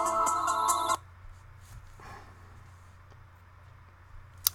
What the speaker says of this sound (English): I hate when people call my phone and then they keep calling